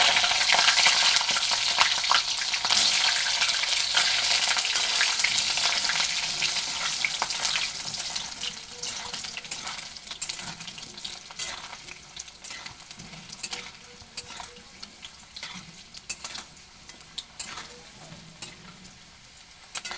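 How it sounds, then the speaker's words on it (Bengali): Potatoes and chopped onions for a goat meat curry fry in a pan with a loud, bright sizzle that slowly settles, while a utensil stirs and scrapes in quick, irregular strokes throughout. "আলুটা একটু লাল লাল করে ভেজে নেব। সাথে দিয়ে দিব পেঁয়াজ কুচিগুলো।"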